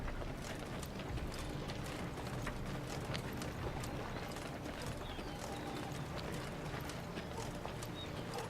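Horses ride in at a steady clip-clop in the fantasy game Thronebreaker: The Witcher Tales, hooves thudding continuously at moderate distance over a constant low rumble of gear and movement.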